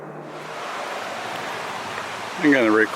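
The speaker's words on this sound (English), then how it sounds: "Running water with a bit of highway noise thrown in." Running water of the Little Qualicum River, a steady broadband rush with faint distant highway traffic mixed in; near the end a brief tonal sound rises over the flow.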